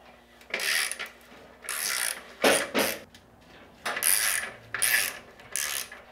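A ratchet wrench loosening 15 mm muffler bolts on a motorcycle during an exhaust install, several bursts of rapid clicking ratchet strokes separated by short pauses, close and clear.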